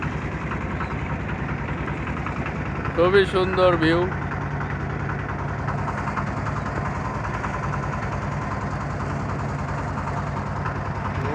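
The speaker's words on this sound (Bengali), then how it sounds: "নৌকা চলছে খুব সুন্দরভাবে।" A motor boat engine runs steadily on a river, a constant low drone heard close by throughout while a person speaks briefly over it.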